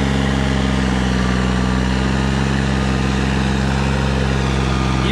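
A New Holland 3630 tractor engine runs steadily while working through wet, muddy farm soil, a continuous loud drone with a strong low hum and no let-up across the whole stretch.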